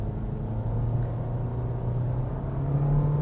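A Suzuki Swift with a CVT in sport mode pulls away under steady acceleration. The engine drones low and constant from inside the cabin, with a faintly rising whine and no voices.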